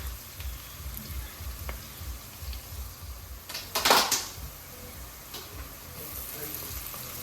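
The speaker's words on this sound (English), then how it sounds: "As the onions are frying, let them fry until they are golden brown." Onions fry in hot oil for a lentil coconut soup, giving a steady soft sizzle with a brief louder crackle burst from stirring midway.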